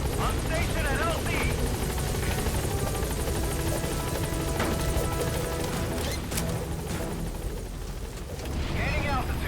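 A support helicopter in Metal Gear Solid V arrives at a landing zone with a loud, continuous rotor roar, layered with game effects and clanks, while voices talk over it.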